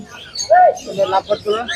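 Lovebirds and parrots at the Mirpur 1 bird market give a quick run of close, sharp chirps and short calls, a few bursts within two seconds amid faint background talk.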